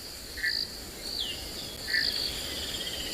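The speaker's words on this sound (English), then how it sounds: "There's a mud wallow not so far away, which you can tell from the frogs that you can hear calling." Frogs call near a mud wallow on an early-morning safari at Tswalu in the Kalahari, giving a few short, bright chirping calls spaced apart over a soft, steady outdoor hiss.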